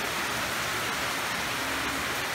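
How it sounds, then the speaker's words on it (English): Steady rain falling on a dry morning, a continuous even hiss of drops without pauses. "certainly been raining since I got up"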